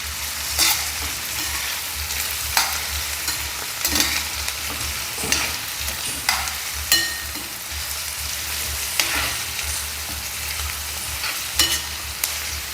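Onions and curry leaves sizzle in oil in a pan for a chicken curry while a spoon stirs them, a steady close fry with repeated scraping strokes at irregular intervals, no voices.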